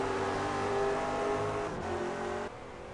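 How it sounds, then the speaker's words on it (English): V8 prototype race car engines in the iRacing video game roar loudly and continuously, a dense, throaty drone that shifts in pitch before dropping slightly toward the end. "I'm just having a listen to these prototypes. These V8s absolutely sound perfect."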